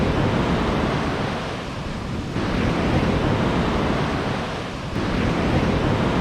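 Ocean surf rolls onto a beach on an island shore, a steady broad wash of breaking waves and wind noise filling the whole stretch, swelling slightly twice, with no voices.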